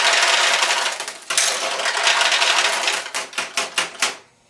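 Metal balls pouring and clattering out of a Nishijin pachinko machine, a dense rushing rattle that breaks into a series of quick bursts before trailing off.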